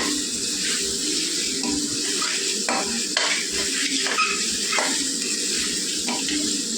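Chili powder sizzling in hot oil in a pan while fish curry is being made, giving a steady, close frying hiss with a few faint clinks of stirring and no one speaking.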